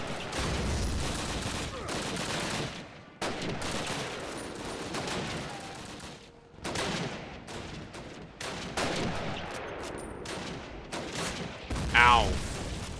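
Rapid gunfire bursts in a Call of Duty match, sharp cracks and volleys spread across the stretch with brief lulls, set among other game effects.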